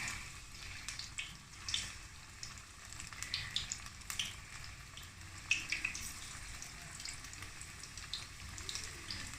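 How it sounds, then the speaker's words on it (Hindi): Pakora batter dropped into hot oil fries with a steady, soft crackling sizzle, bubbling continuously at close range with small spoonfuls adding brief spits and pops; no one talks. "अब हम पकोड़े डालना स्टार्ट करते हैं।"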